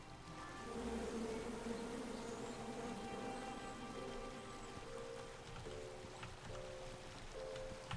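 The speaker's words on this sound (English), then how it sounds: "Come at me, bees!" Bees buzz in the King's Quest video game, a steady droning hum with wavering tonal pitches that holds for several seconds over a faint background wash.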